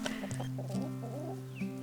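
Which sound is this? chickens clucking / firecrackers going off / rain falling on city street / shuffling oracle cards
chickens clucking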